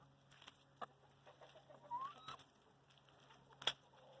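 Free-range chickens cluck softly on a morning walk down to the coop. Scattered faint clucks and a few sharper calls sit over a quiet outdoor background.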